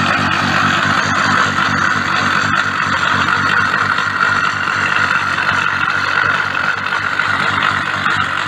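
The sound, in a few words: car engine idling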